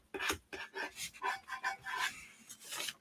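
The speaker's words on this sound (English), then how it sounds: "So we're just going to burnish this down." Painter's tape being burnished down by hand: a quick run of about a dozen short, close rasping rub strokes in an uneven rhythm, with no voices.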